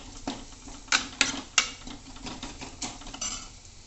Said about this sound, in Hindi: और इस मसाले को भी हल्का सा भूनना है।